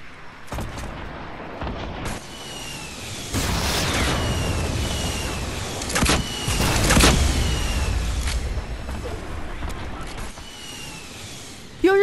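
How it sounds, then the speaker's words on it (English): Video game combat with a homing missile, loud booming blasts and roaring explosions through most of the stretch, with a sharp hit at the very end and voices speaking between blasts. "I think that's a homing missile"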